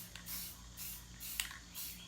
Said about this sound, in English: Just gotta make sure the whole thing is spray painted.